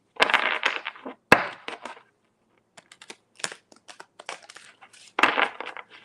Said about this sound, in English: let me finish shuffling really quick